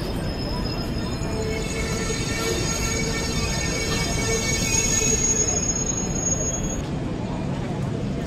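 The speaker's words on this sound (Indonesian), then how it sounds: "ini dia nih kereta kita bakal masuk ke jalur 3 stasiun Manggarai" A KRL commuter train pulls into platform 3 at Manggarai station, wheels squealing with a sustained high metallic whine over a steady rumble, the squeal cutting out near the end; station crowd noise and voices underneath.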